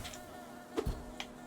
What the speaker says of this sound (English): Bees, I do not wish to deal with you.